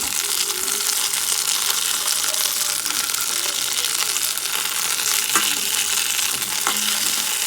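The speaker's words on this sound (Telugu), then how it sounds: "ఇలాగా వేగుతూ ఉంటాయి కదా, చక్కగా వేగనివ్వండి" Ingredients for gongura chutney fry steadily in a pan, a continuous bright sizzle with a couple of soft stirring scrapes, close and unbroken, no voices.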